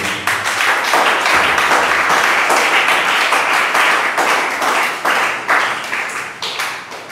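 A church congregation claps loudly to acclaim the Lord, a dense, sustained round of applause with rhythmic beats running through it, steady for several seconds before easing slightly at the end.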